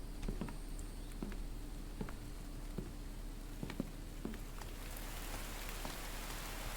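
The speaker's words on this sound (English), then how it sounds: "Damn, this rain." Rain in the survival video game The Infected: a steady hiss of falling water with scattered small drop ticks across the surface, growing a little brighter toward the end, with no voices.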